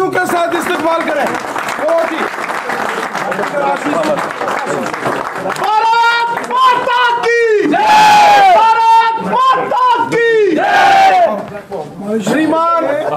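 A crowd chants and cheers loudly over a dense wash of clapping at a political party joining event, with rhythmic shouted voices rising and falling throughout.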